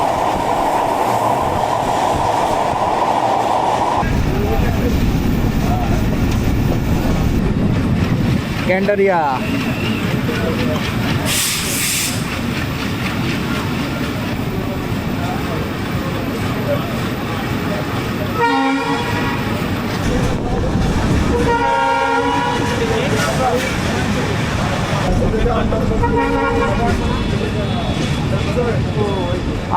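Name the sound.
Ovijatri commuter train running, with horn, approaching Kamalapur station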